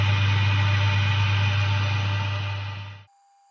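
A metal lathe in parallel turning on a screwdriver handle drones with a steady, loud mechanical hum for about three seconds, then cuts off abruptly into near silence.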